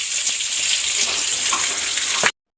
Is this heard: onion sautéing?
yes